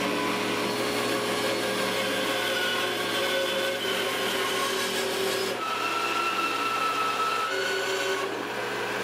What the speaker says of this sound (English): I'm going to trim off the excess corners on the bandsaw